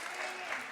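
Brief burst of applause from a church congregation at a Thursday fellowship service, dense steady clapping throughout with no pause, fairly close and moderately loud.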